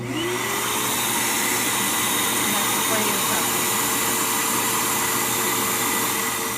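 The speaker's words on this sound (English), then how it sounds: "Keep inflating it until it feels really firm." An electric air pump inflating an Entex inflatable hot tub through an attached hose, a steady, loud whining drone that runs continuously and evenly throughout with no pauses.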